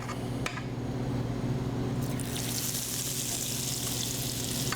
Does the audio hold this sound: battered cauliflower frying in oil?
yes